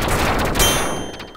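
Gunfire from the duck shooter Duck Game, a quick burst of loud, crackling shots packed close together with a sharp crack near the middle, up front and without talk.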